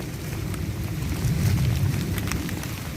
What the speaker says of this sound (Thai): ตอนนี้ฝนยังไม่หยุดครับ